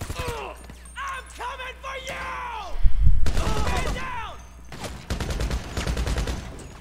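Ray gun firing repeatedly in a first-person shooter game, rapid bursts of energy-weapon shots with crashing impacts layered over game noise, with someone talking throughout.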